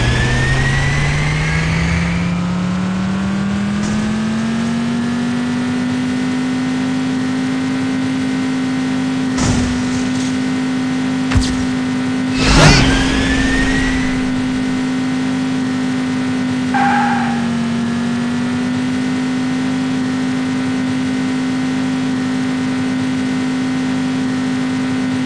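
Audi R8 engine in the racing game City Racing 3D, a loud steady drone that climbs in pitch and holds at high revs, broken by a few brief sharp clicks and thumps midway.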